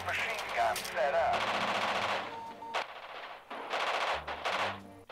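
Machine gun fire in a WWII strategy game set at the Battle of Ortona, loud rapid bursts that stop and restart several times, with brief gaps of quiet between volleys.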